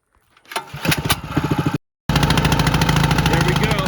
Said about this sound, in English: Pump primed, throttle on, choke set to start, and on.